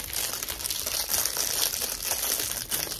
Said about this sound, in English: Let me take it out the bag so you guys can see better.